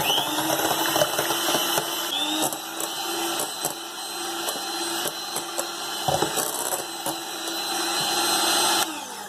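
An electric mixer whisks cream with icing sugar in a bowl, a continuous whirring motor drone with small rattling clicks throughout.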